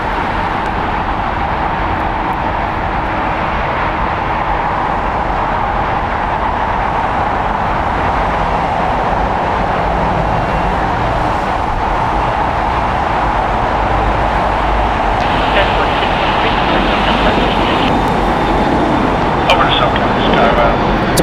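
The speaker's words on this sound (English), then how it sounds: "Arriving here is JetBlue Airways Flight 1373 coming in from EWR" A nine-year-old JetBlue Airbus A321 arrives at LAX airport, a long, steady roar of jet engines with a broad rumbling wash that swells slightly toward the end, with voices talking over it.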